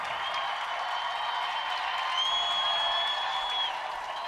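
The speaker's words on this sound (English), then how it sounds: "Now the crowd is really getting excited" Crowd applause at the Westminster Kennel Club Dog Show, a steady, dense wash of clapping from a large arena audience that holds at an even level throughout.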